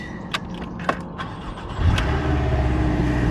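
A Porsche 718 Boxster gives a few soft interior clicks, then its engine cranks and catches, settling into a loud, steady idle close by.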